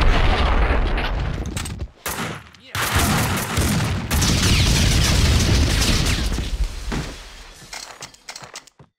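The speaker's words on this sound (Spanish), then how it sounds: "Tápate los oídos, va a ser un buen petardazo." Loud explosions and gunfire from a Max Payne 2 PC firefight crash in near-continuous bursts, with a brief lull around two seconds before the booming barrage resumes at full force and tapers off at the end.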